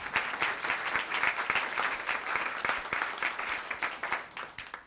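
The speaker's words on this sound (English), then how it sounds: "Let's give her a round of applause." A council meeting audience in Los Gatos keeps up steady, dense applause throughout, many hands clapping at moderate loudness with no talking.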